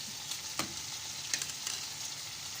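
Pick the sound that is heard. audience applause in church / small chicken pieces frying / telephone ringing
small chicken pieces frying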